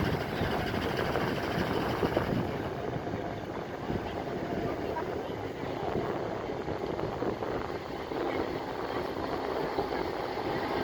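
A 280-horsepower New Holland tractor engine drones steadily for the whole stretch at an agricultural show, a continuous broad rumble with wind buffeting the microphone.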